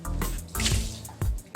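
Water is poured out of a removed filter canister from an Unger HiFlo RO30G water filter system, coming in three short splashing bursts into a sink, loud and close with no talk.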